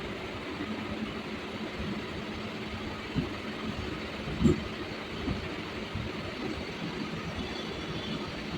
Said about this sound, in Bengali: এই যে ট্রেনগুলো যখন ছুটে যায় সুন্দর একটা শব্দ